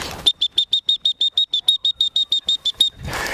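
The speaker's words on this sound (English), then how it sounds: "that whistle's beeping" A high electronic dog training whistle beeps in a quick, even series of about fifteen short pulses, loud and close, followed by a rush of wind noise.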